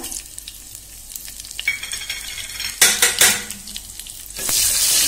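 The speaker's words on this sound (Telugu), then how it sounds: "నూనె మరిగింది కదా ఇప్పుడు ఎల్లింపాయ వేసుకున్నాం రోజు పెట్టుకున్న ఎల్లింపాయ వేసుకున్నాం తర్వాత ఆవాలు జీలకర్ర" Garlic, mustard seeds and cumin hit hot oil with a loud burst of crackling sizzle, with utensil clinks and stirring against the pan, and a sustained hiss swelling at the end.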